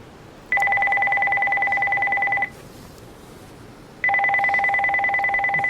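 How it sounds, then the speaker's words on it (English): Two long steady dual-tone bursts sound on a telephone handset being dialed to a pager, each lasting about two seconds with a quiet gap of line hiss between them. "I kept the handset in my hand and dialed up the production manager's pager."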